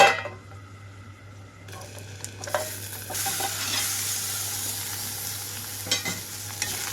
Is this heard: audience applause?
no